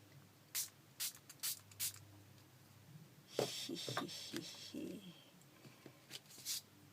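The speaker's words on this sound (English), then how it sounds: "I'm going to spray a little bit." Several short, sharp spritzes from a spray bottle of bleach in quick succession, then rustling and handling noises, with a couple more faint sprays near the end.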